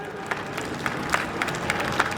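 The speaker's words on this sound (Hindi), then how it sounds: "मैं चाहता हूँ एक बार सभी बच्चे सारे हमारे गेस्ट के लिए जोरदार ताली बजाएं" Schoolchildren at Modern International School clapping for guests; a steady, moderately loud patter of many hands with a few sharper claps standing out over a brief stretch.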